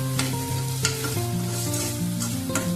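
Sweet corn stirred in a pan with soy sauce and ketchup, a close sizzle with regular spoon scrapes, while steady tonal background music plays underneath.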